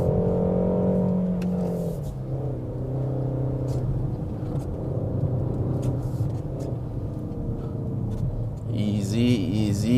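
A 2022 Peugeot 5008 SUV pulls out of a corner on a wet hill-climb road, its engine note climbing steadily in a continuous, fairly close drone, with a voice speaking over the engine.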